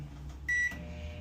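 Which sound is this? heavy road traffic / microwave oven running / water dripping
microwave oven running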